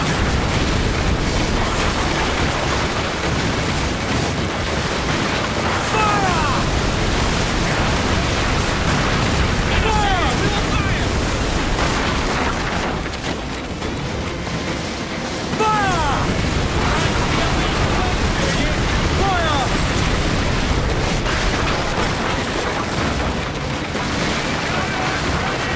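Ship mortar fire in Assassin's Creed Black Flag, with heavy booms rolling over a constant roar of sea and battle noise and faint whistling shells arcing in and out, loud and sustained throughout.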